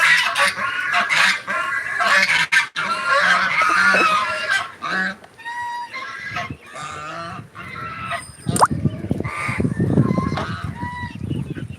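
Loud, repeated honking calls from swans, nasal and brassy, overlapping in bursts, with some clattering and background noise toward the end.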